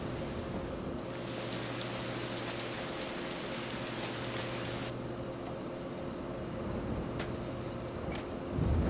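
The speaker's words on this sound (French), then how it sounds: "Vous entendez qu'il pleut dehors" Steady rain falls outside at night in the video game Persona 4 Golden, a continuous soft hiss with a low hum beneath and a few brief ticks near the end, no voices.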